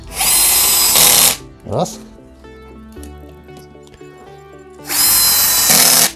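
A power screwdriver drives screws into cabinet door hinges during furniture assembly, with two loud, close whirring bursts at the start and end, a brief screw squeal between them, and someone speaking briefly.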